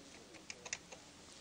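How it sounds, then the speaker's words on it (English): Keys on a computer keyboard linked to a PFAFF creative 1475 sewing machine setup are pressed a few times, giving soft, quick clicks spaced unevenly over a quiet background. "Use the keyboard to type in 211 for the teddy bear."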